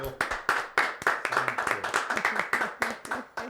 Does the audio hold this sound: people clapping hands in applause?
yes